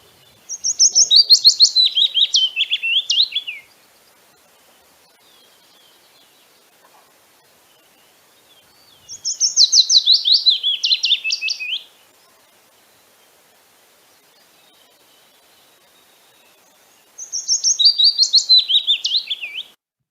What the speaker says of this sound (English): This is the willow warbler.